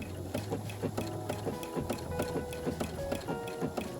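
Sewing machine stitching a fabric heart appliqué onto background fabric, with a quiet, rapid rhythmic clatter of the needle in short repeated bursts and pauses, close and soft, no talk.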